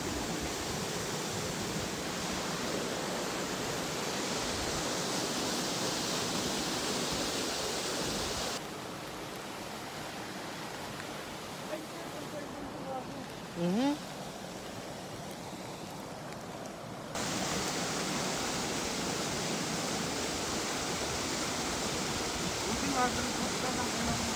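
Hingi Falls waterfall in Malico, Pangasinan roars as a steady, loud rush of falling water, dropping to a softer hiss for a while mid-way before the full roar returns, with people talking faintly beneath it.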